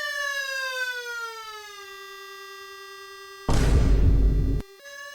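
Siren Head's wailing horn in a video game sounds as one steady tone that slowly sinks in pitch, broken by a loud harsh blast about a second long.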